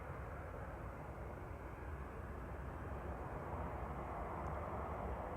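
Airliner departing Manchester Airport on a flight to Faro, a broad, steady jet engine roar from a distance that holds constant and swells slightly toward the end, with no voices.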